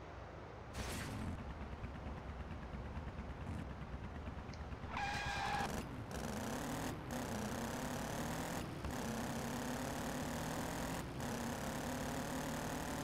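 Harley-Davidson motorcycle engine in a racing video game, a steady loud drone that rises in pitch after a few seconds, with brief gear-shift breaks and faint higher mechanical whine, no talk.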